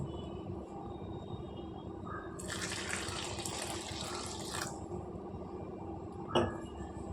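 Water pours into puri dough of flour mixed with oil, a steady splashing gush lasting about two seconds, then a brief knock close by.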